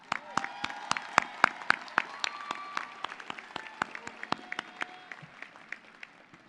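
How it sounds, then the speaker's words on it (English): Graduates at a university commencement ceremony clap, a scattered, moderate round of individual hand claps that thins out toward the end, heard from a distance in a large hall. "Give yourselves a round of applause."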